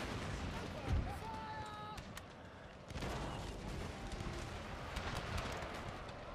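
Artillery bombardment during a Napoleon: Total War battle: dull cannon booms and crackling musket-like fire over a dense battlefield rumble, one heavier thump near the start and steady distant firing throughout.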